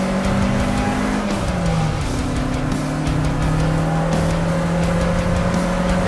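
An Alfa Romeo Spyder accelerating down the main straight of a race track, the engine note climbing steadily through a gear change, loud and close from inside the car.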